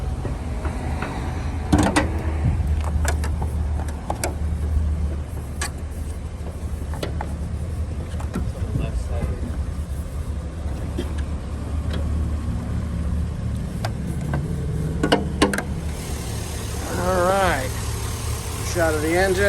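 A 2003 Chevrolet SSR engine idles quietly and steadily with the hood open, a low even rumble that runs throughout, with a few clicks and knocks over it and a brief squeal near the end.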